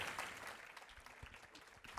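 Audience applause at a New York City census summit panel, quiet and brief, a scattered patter of clapping from a distant crowd.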